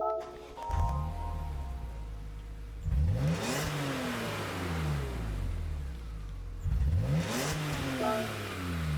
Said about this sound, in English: I'm going to click on this car, and we'll listen to the startup sound